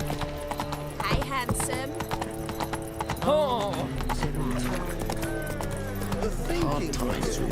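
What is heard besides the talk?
horse Roach's hooves in video game The Witcher 3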